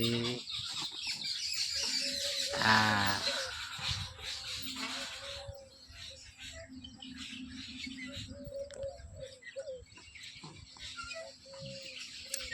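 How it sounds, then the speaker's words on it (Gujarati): Birds chirp and call repeatedly in the background, with fowl-like clucks mixed in, while a voice speaks briefly. "પંખી પણ બોલી રહ્યા છે"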